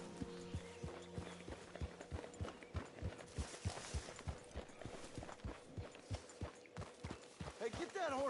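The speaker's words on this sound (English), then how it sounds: "get that horse out of here" Rhythmic clip-clop of horse hooves trotting at a steady pace in the video game Red Dead Redemption 2, with people talking and a faint musical tone underneath.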